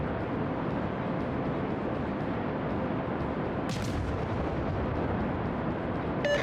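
Warship artillery fire in the naval game World of Warships, a constant heavy booming rumble with dense low roar and a brief sharper burst midway, loud and unbroken without speech.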